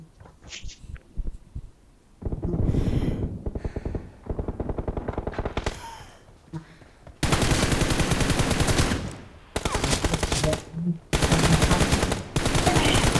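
Rapid automatic gunfire from a shooter video game comes in loud sustained bursts separated by short pauses, with intense firing dominating the whole stretch.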